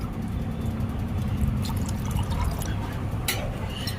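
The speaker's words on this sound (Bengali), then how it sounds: "আমি বিচিগুলোকে 2 থেকে 3 বার জল পাল্টে খুব ভালো করে ধুয়ে নেব" Jackfruit seeds being washed in water in a bowl, with the water rinsed and changed a few times; a continuous sloshing, trickling wash of liquid close by with a few small splashes near the end.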